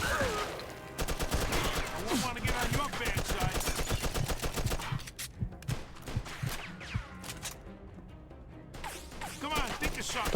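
Rapid bursts of gunfire in Mafia II Definitive Edition, automatic volleys and single shots crackling loudly over a busy mix of game noise, with a voice now and then.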